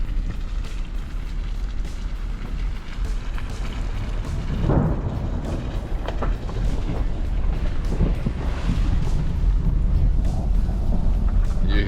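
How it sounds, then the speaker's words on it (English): A deep, continuous rumble of thunder rolls through canyon country, loud and close, swelling and fading over heavy storm noise without any talking. "You hear the thunder and you saw the rain."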